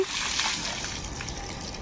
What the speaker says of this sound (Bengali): এই যে ট্যাঙ্কির থেকে জল নিয়ে, এই যে জল পড়ছে, ঠান্ডা জল এখানে দিচ্ছি